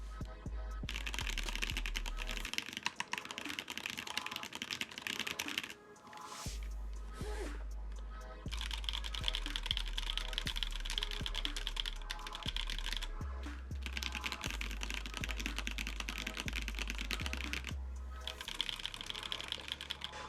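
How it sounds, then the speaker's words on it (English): Steady, fairly quiet typing on a mechanical keyboard fitted with deep-sounding Gateron KS9 switches, rapid keystrokes with a few brief pauses. "this is Gateron KS9, a very deep sounding switch. There, let's compare the two."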